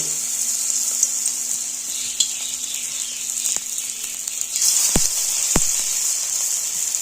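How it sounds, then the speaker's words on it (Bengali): Spicy bora fritters frying in hot oil in a kadai wok make a constant, close sizzle with a bright hiss and a couple of sharp clicks from utensils, with no talking. "তো এর মধ্যে এবার বড়ার আকারে ভেজে নেব।"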